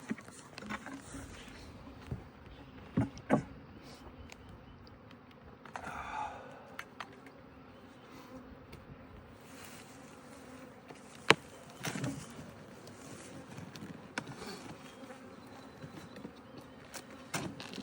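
Honeybees hum steadily inside a crowded hive at a farm apiary, a close low drone with occasional knocks and handling bumps.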